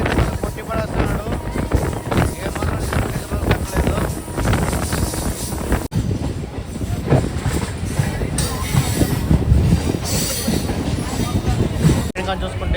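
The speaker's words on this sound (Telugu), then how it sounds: "ట్రైన్ కానీ చూసుకుంటే స్పీడ్ కొట్టి పడేస్తున్నాడు" A MEMU passenger train runs fast on the line between Arunachalam and Tiruvannamalai–Tirupati route, its steady rumble and rattle continuous under wind buffeting, with a voice talking over it throughout.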